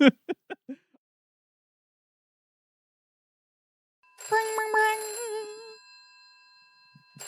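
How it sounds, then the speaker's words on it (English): A telephone in a Polar Express game rings once as a bright, bell-like burst, clear and close, with a short stretch of speech before it and silence in between. "Oh, the phone's ringing."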